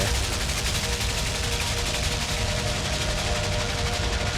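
Dense, continuous gunfire in the video game LIMBO roars without pause, a loud wall of rapid shots and booms filling the whole stretch.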